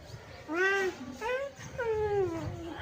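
A tomcat gives three long, wailing meows close by, each call rising and falling in pitch, with short pauses between them.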